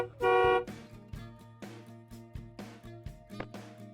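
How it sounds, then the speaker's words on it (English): A car horn gives one loud, steady honk near the start. Several lighter, fainter knocking beats and shorter tones follow at a fairly regular pace. "Car."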